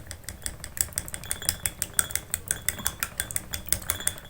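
A utensil stirs aloe vera gel and oil together in a bowl, giving a steady rhythm of fairly close scraping clicks, roughly three or four per second, with no voices.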